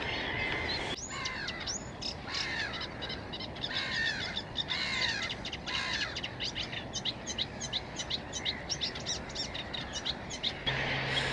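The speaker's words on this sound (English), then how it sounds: "I can hear reed warblers down there." Reed warblers chatter from the reeds in repeated short bursts of scratchy chirps, steady and moderately near, while crows also caw in the background.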